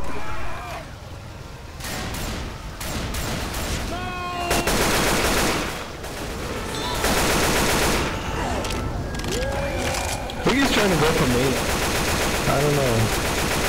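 Rapid bursts of machine-gun fire from a man-turret in Left 4 Dead 2, loud and close, broken into repeated volleys, with people talking between and over the shooting.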